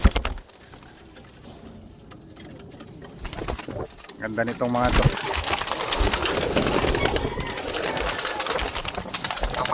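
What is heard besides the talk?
birds (racing pigeons) cooing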